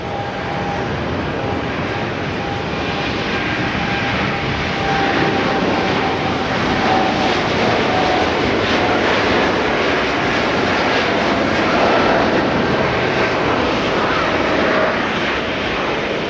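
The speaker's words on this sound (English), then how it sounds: "Air India off to Delhi." An Air India jet airliner takes off at Tokyo Haneda, its engines producing a loud, broad, continuous roar that builds a little midway and stays strong throughout, with no voices.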